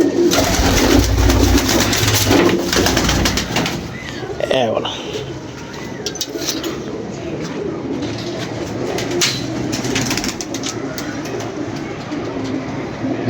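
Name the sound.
pigeons cooing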